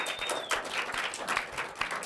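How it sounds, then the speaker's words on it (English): A team and their families applauding together, a steady patter of many hands clapping at moderate volume for a couple of seconds, with a faint whistle at the start. "Go ahead, go on and give yourselves a round of applause."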